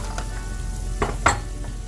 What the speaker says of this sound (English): Now we're ready to add our crab, which I have cut up into large pieces.